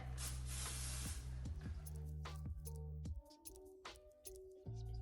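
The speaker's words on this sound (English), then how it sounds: "And I'm even going to do the fringe area a little bit. Spray it." Hair spray hisses onto the fringe during a salon blowout, one sharp spray burst about a second long, close, followed by a quieter tonal hum and small ticks.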